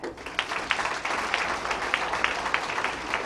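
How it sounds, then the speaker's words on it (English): Applause from the audience at a women's professional bowling stepladder final, a steady wash of many hands clapping at moderate distance with distinct sharper claps standing out, unbroken for a few seconds. "How about one more big round of applause for your competitors?"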